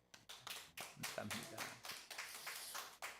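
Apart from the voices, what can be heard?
applause of thanks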